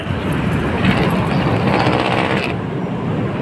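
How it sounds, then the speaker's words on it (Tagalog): An LRT light rail train passes on an elevated track above a Manila street, a loud, steady rumble and rolling roar that holds for a couple of seconds, then eases as its high whine drops away. "Ayan yung LRT, oh. Dumaan ng LRT."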